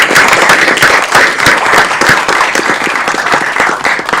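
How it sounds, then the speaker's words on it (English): Loud, close applause from attendees at a city council meeting, many hands clapping in a dense, slightly uneven patter that swells and eases. "Let's give everybody a round of applause."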